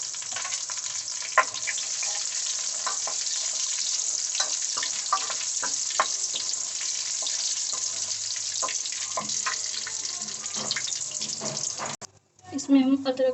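Whole spices, dried red chillies, cloves and cardamom, sizzle and crackle steadily in hot oil for soya chaap, a constant frying hiss with small pops, close, ending in a brief clatter.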